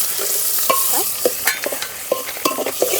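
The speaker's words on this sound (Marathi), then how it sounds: "कांदा एकदम लाल होईपर्यंत एकदम परतून घेऊया व्यवस्थित परत." Chopped onion being stirred and sautéed in a pan until it turns red-brown, with a steady soft sizzle beneath repeated scraping and clinking strokes of a spatula, close and alone without talk.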